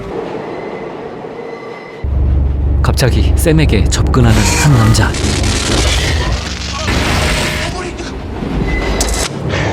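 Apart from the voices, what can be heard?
subway train riding, from the film Ghost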